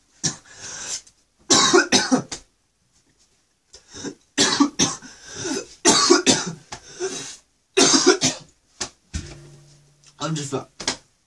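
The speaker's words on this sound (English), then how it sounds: "So it even makes me cough when I think of it." Several sharp, harsh coughs come in bursts between stretches of speech, with short pauses in between and a brief hum near the end.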